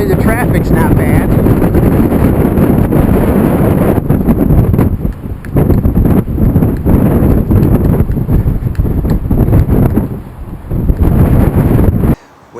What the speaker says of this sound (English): Extremely windy, about 30 miles an hour.